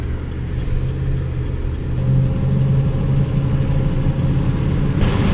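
A used pickup truck's engine runs quietly while driving, a low steady rumble with a faint hum rising slightly as it moves along, no talk over it.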